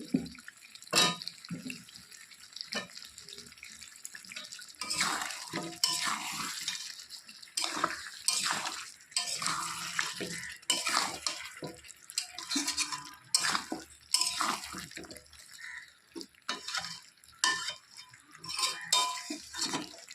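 Goat meat is stirred in a cooking pot with intermittent wet clinks, scrapes and splashy clatters of a utensil against the vessel, close and irregular with quiet gaps between.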